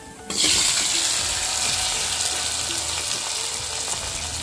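Potatoes dropped into hot mustard oil with green chilli, bay leaf and panch phoron set off a sudden loud sizzle that holds steady and close, a broad hiss that slowly eases, with no talking.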